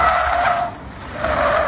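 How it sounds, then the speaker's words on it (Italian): Car tyres squeal on a road in Hungary in a loud, sustained close screech that dips briefly in the middle and then returns at full strength. "Quindi ho provato a batterci sopra, a strofinare, a far fischiare le gomme della macchina."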